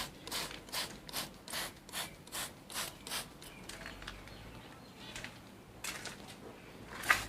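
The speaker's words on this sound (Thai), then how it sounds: "ฉีดแบบนี้เลยค่ะ ฉีดให้ทั่วต้นเลยนะคะ" A hand pump sprayer applies pesticide to a Korean fig plant in evening garden care, with about a dozen rhythmic pumping strokes, then a pause and a few more, close and quiet with no talking.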